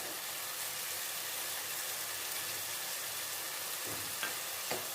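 Curry leaves drop into a pan of frying chicken curry with tomato and onion, giving a steady close sizzle throughout, with a couple of sharper crackles near the end and no voices.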